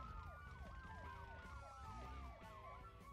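Police sirens wail in the BeamNG driving game, several overlapping warbling siren tones sweeping up and down continuously at moderate distance.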